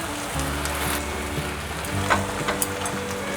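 Taro and rice noodles with water added, stir-fried and tossed in a pan, a steady loud sizzle with a few soft scrapes of turning, no voices.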